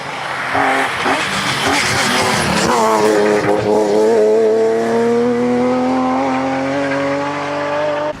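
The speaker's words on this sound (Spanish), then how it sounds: "Siempre rápido Antonio Corujo con su M3 cerraba las 5 primeras plazas" A BMW M3 rally car racing on a stage, its engine loud and close with rising revs and tire squeal as it accelerates past, roaring steadily throughout.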